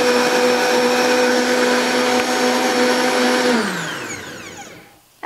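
A blender whirls salad dressing in a loud, steady high-pitched whine. Its motor then winds down and stops, and a brief clatter follows.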